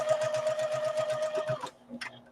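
A sewing machine stitches a quilt in a rapid, even mechanical chatter with a steady hum, running close and clear, then stopping abruptly, followed by a brief clack.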